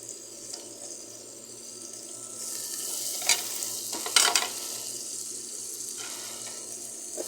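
Onions and green chillies frying in a pan for a bitter gourd curry, a continuous close hiss with a few sharp scraping bursts from stirring partway through.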